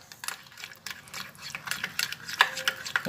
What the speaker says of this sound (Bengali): সব একসঙ্গে দিয়ে এটা এবার একটু সামান্য পরিমাণে জল দিয়ে এটা গুলে নেব